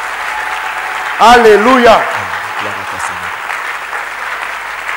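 Church congregation applauding and cheering the Lord during a French-language service, steady clapping under a sung hallelujah and a brief organ-like chord, crowd noise continuing evenly to the end.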